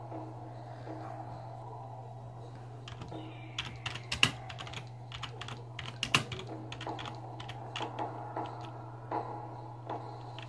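Computer keyboard typing in irregular bursts of sharp clicks over a steady low hum, fairly close and clear, with no talking.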